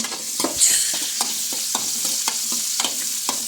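Vegetables fry and sizzle in a pan for a home-style curry, with a steady hiss and regular stirring scrapes against the pan at a near, even rhythm.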